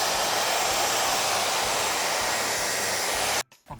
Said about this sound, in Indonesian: ini kita ganti corong hair dryernya pakai corong yang gede